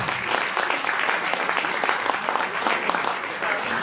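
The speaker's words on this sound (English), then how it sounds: "everyone should give him a round of applause." Room full of diners at a Democratic party spaghetti dinner clapping, thick continuous applause with crisp individual claps, steady and close throughout.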